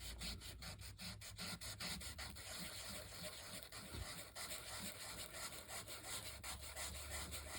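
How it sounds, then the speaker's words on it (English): Sandpaper rubbing off a part line with rapid back-and-forth strokes, a close, steady rasping scrape that continues almost without pause, with the rhythm briefly loosening halfway through. "I'm going to sand off that just part line right there"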